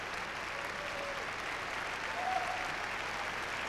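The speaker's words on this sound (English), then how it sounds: "the applause is punctuated by cheers and some whistles" An audience at a Live from Lincoln Center musical theater celebration applauds steadily, with cheers and a few whistles rising out of the dense clapping; a louder whistle cuts through near the end.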